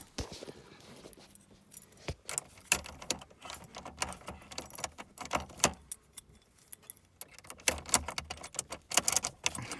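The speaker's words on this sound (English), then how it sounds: "Well, we do have keys for the car." Car keys found inside a scrapped 1991 Dodge Monaco jingle and clink in a series of sharp, irregular bursts over about ten seconds, close to the microphone, with quieter handling noise between the bursts.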